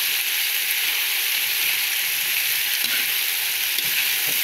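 Sweet potato frying in a pan for fresh lumpia filling, a steady bright sizzle with soft crackles throughout, close and continuous, no voices.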